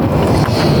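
Steady, blustery wind roars across the microphone, a low buffeting rumble that stays loud and constant with no voices.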